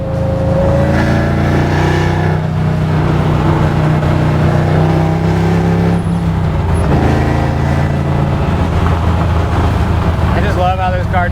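A supercharged 1967 Camaro restomod with a Wegner LSX 427 V8 accelerating hard, a loud sustained engine roar rising in pitch through the gears from inside the car, with a voice speaking over it.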